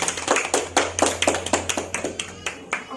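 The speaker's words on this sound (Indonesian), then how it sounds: "Tepuk tangan sekali lagi." Applause from a classroom of students for a classmate who has just finished presenting, a few seconds of scattered, uneven claps at moderate volume over a low steady hum.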